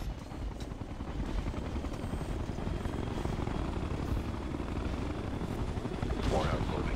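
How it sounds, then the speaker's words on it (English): A hostile helicopter in a video game, a steady rumbling rotor roar that holds throughout with a faint whine in the background, mid-distance and constant in level. "Hostile chopper inbound."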